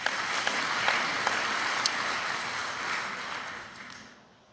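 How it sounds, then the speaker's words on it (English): Audience applause for a community committee at a local gathering, a steady wash of clapping with a few sharper claps standing out, holding evenly before thinning and fading toward the end. "One last round of applause for that committee."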